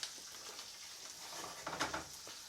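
Live-prepared lobsters sautéing in foaming butter, a quiet, steady sizzle with a few soft clicks and stirs near the end, no talking.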